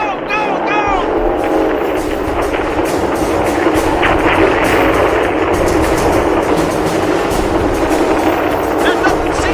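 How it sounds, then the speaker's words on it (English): Gunnery and artillery sound effects in a radio drama, a dense continuous roar of gunfire and booming blasts mixed with crowd-like chaos, loud and unbroken throughout. "All the gunnery positions have opened fire!"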